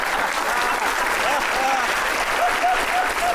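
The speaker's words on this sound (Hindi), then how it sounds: "बात समझ में आ जाए तो देर तक ताली बजाना जोर से।" A crowd at a Hindi poetry event claps steadily and loudly throughout, while a few brief voices and whistle-like tones rise over the applause.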